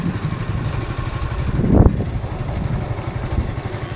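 A motorcycle engine runs in a village setting, making a loud, close, rough rumble with a brief surge in the middle before settling back to a steady throb. No voices.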